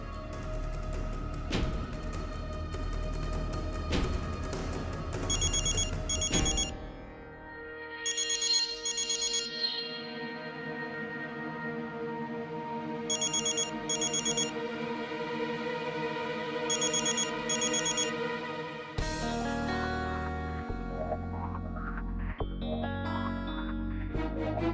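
A telephone rings indoors with a bright, repeating electronic ringtone in several short bursts, layered over dramatic background music with a distorted, effected tone.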